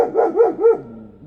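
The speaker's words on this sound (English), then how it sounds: "now she's got to bark at the doggy walking down the road" A dog barks at another dog passing along the road outdoors, three loud, close barks in quick succession followed by a lower, fading whine.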